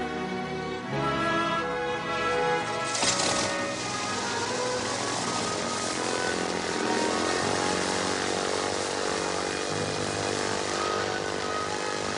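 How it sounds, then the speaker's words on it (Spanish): A light aircraft takes off, its propeller engine droning loud and steady, then rising in pitch as it throttles up and holds a continuous roar. "tenemos también las imágenes de cómo emprende el vuelo esa avioneta"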